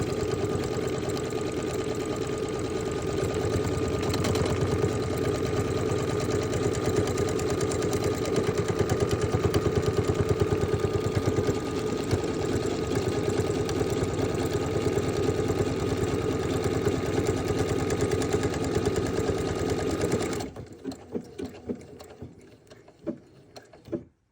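A sewing machine stitches a buttonhole, its motor whirring steadily and loud for about twenty seconds, then it stops abruptly and leaves only faint clicks and handling noise.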